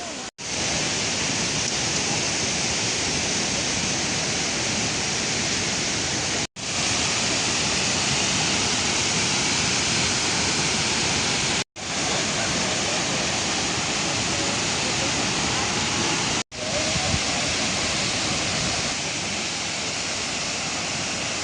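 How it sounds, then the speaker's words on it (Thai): Wachirathan Waterfall roars in a steady, loud, unbroken rush, with a few abrupt cuts where the sound briefly drops out. "รับชมความงดงามของน้ำตกวชิรธานกันเลยครับ"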